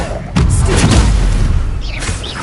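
Explosive spell impacts in Hogwarts Legacy gameplay: a heavy booming blast lands near the start and rumbles on, with a second, lighter burst near the end, loud and close.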